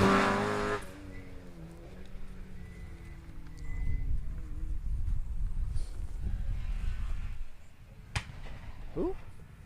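A Mark 2 Ford Escort rally car on a forest stage gives a broad, rumbling engine roar that holds for several seconds after a brief burst of talk, its noise fairly steady and moderately distant.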